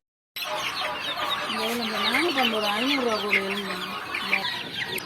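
Chickens and chicks at a poultry handout cluck and cheep nearby, with a hen's rising and falling calls over a bed of chirping and a person talking in the background.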